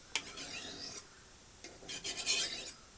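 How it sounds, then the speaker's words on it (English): A kitchen knife held vertical at a 17-degree angle and drawn down a 300 grit whetstone, giving two separate gritty rasping strokes, fairly quiet and close, with a short pause between them. "keep this knife vertical and bring it down like this. Now this is on a 300 grit."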